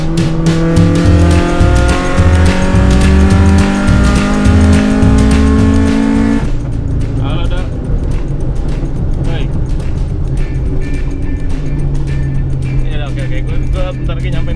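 A car driving, the engine note and road noise rising and shifting, heavy at first and then calmer, with people talking over it throughout; a BMW E36 or E46.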